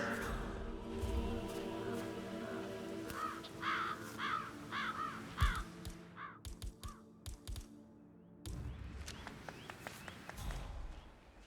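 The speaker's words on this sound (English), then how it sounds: "Damn birds. If I could just get clear hits on those nests." Crows cawing in a Hitman 3 game scene, several harsh repeated caws mid-distance over steady ambient hum, mixed with scattered footstep-like clicks and knocks.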